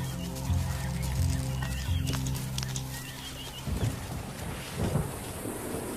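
A thunderstorm breaking the dry season in the African wild: a deep low rumble of thunder rolls through the first half, then gives way to softer rain and gusty noise, fairly distant and moderately quiet.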